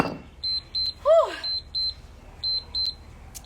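A workout interval timer beeps in a steady series of short electronic tones during a HIIT session, with a voice briefly sounding among the beeps.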